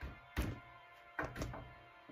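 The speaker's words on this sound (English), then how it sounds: "he heard bangs at the door." Bangs on a hotel room door at night: a few dull, heavy knocks, one isolated and then a quick pair, faint and muffled against a quiet background.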